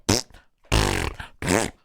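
Three loud, close bursts of audible farting, each a ragged blast with a pause between, in a men's public restroom setting, no talking.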